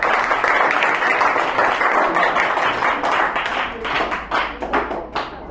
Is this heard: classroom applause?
yes